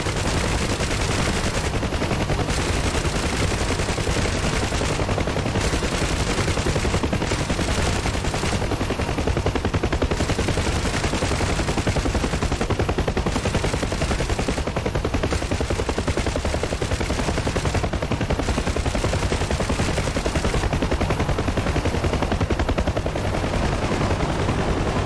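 Aircraft guns firing in DCS over the Red Sea during a hunt for oil tankers, a dense, continuous rattling roar of rapid fire under steady engine drone, loud and unbroken throughout.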